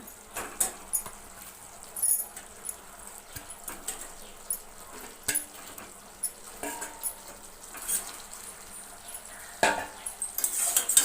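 Fried chicken pieces are stirred through a sweet and spicy sauce in a pan, with irregular scraping and clinking of a spoon against metal, soft patter and faint sizzle underneath, moderately quiet throughout.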